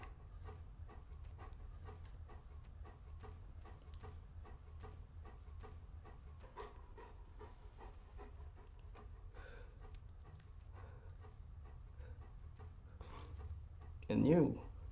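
A dog pants close by in a fast, steady rhythm of short breaths that continues evenly throughout, ending with a brief louder burst.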